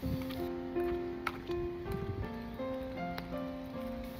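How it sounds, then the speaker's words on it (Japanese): Rain falls on a wet neighborhood road during a walk to the supermarket, a faint steady patter of drops with scattered nearby taps, running beneath a soft tonal background with no voices. "雨に濡れた道を歩く。"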